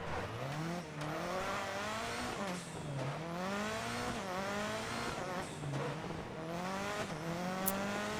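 Race car engines in the video game DiRT Rally roar and rev continuously, pitch climbing through repeated gear shifts, with tires squealing in places.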